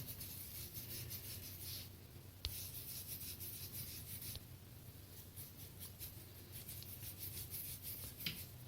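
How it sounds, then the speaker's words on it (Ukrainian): Soft, continuous scrubbing and rubbing of a silver coin with baking soda, quiet and close, with a couple of faint clicks and no talking. "беремо соду. Легенько стираємо."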